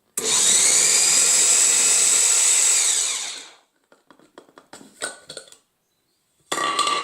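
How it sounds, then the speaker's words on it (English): A food processor cutting butter into pie crust flour roars loudly and steadily for about three seconds, winds down, then gives a scatter of clicks and rattles before a short second pulse starts at the end. "Using the food processor, it cuts your time literally in half."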